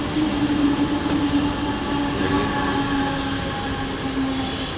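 A train pulls into a station with a steady rumbling roar and a faint high whine of wheels on the rails, loud and close, with no talking.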